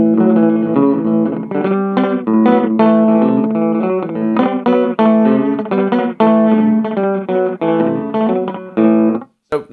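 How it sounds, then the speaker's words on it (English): Distorted electric guitar chords played through a quick slapback delay from an Evans Echopet EV-50 analogue bucket-brigade pedal with an MN3005 chip, each note followed by a tight echo, ending abruptly. "And then we've got like a very fast sort of slap back."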